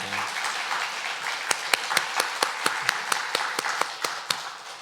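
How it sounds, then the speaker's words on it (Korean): A church congregation applauds at a Sunday worship service honoring teachers, a broad wash of clapping with sharper individual claps popping out in a quick, fairly even rhythm, held at a steady level throughout. "다시 한번 박수하겠습니다"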